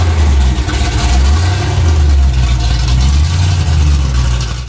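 A Turbo Rotsun car engine, with a Crusher Impala also in the matchup, runs loud on a dyno with a heavy low rumble that surges and eases across the few seconds, with no talk over it.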